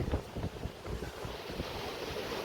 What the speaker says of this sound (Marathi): हा पूर्ण समुद्र